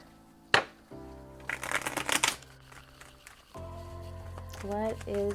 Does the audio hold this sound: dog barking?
no